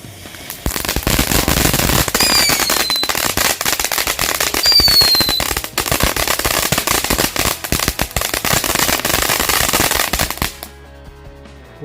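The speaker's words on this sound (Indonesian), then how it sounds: "untuk yang pertama kita nyalain air mancur dari Cina Blooming Flower" A Chinese Blooming Flower firework fountain at night on the eve of Eid, spraying a loud, dense, continuous crackle and hiss of sparks for about ten seconds before cutting off abruptly.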